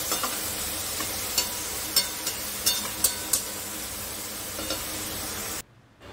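Tomatoes frying with salt in a pan make a steady close sizzle, dotted with sharp utensil scrapes and taps, before the sound cuts off abruptly near the end.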